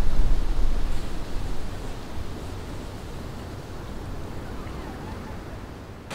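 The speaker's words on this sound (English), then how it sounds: "just the wind is at a 360 degree cycle right now" Strong wind gusts roar continuously around a winter campsite in freezing cold, with a loud, broad rushing that swells at the start and then settles into a steady blast.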